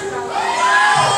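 Brief burst of loud concert crowd cheering and shouting at a live show in Indonesia, swelling slightly toward the end.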